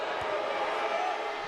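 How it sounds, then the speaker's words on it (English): A basketball arena crowd at a Bradley Braves versus Drake Bulldogs game reacts with a sustained, loud wash of disapproving noise after a referee's call, steady throughout. "Crowd not agreeing with that one"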